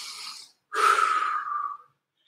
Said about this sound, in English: Don't forget to breathe.